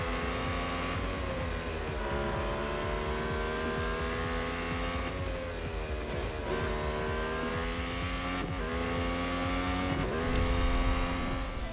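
Racing car engines in Real Racing on an Android TV box, continuous loud revving with repeated gear-shift dips and rising pitch, tires squealing now and then, no voices.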